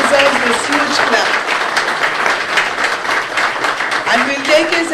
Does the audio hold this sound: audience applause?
yes